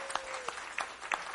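A church congregation claps together for a short stretch, soft and somewhat distant scattered applause with a few sharper claps standing out.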